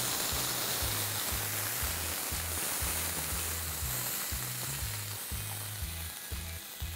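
Corn niblets, finely chopped carrots and French beans fry with garlic paste in a pan over a fairly high flame, giving a steady, dense hiss close by with no talking.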